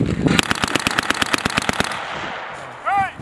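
Machine guns firing during a joint Marine and Swedish armored battalion exercise in the Baltic: a rapid, evenly spaced burst of loud, sharp shots lasting about two seconds, then fading, followed by a brief voice.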